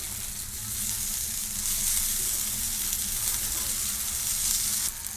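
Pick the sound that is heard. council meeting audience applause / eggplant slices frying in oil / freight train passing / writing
eggplant slices frying in oil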